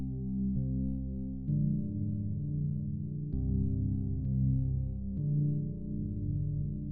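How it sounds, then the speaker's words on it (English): Half-timed synth bells in a dark trap melody ring out alone in a slow, looping pattern of sustained, mellow tones that fade in and out, with no voices over them. "So that's what the bells sound like."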